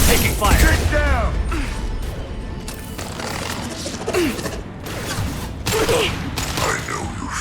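Gunfire in the Mass Effect 2 video game erupts in bursts of crackling shots and impacts, with sweeping synthetic whines and a voice talking amid the loud, dense combat.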